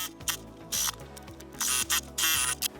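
A sewing machine stitching a quilted trucker hat seam, with short mechanical whirring bursts and a rhythmic clatter, close and starting and stopping several times.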